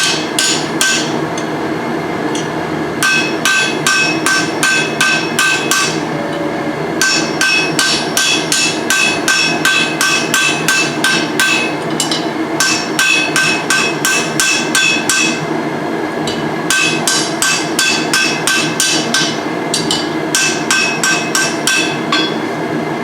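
Steady, rapid hammer blows ring out as a rivet is peened into a pair of blacksmith's tongs, bursts of sharp metallic strikes broken by brief pauses, loud and close throughout.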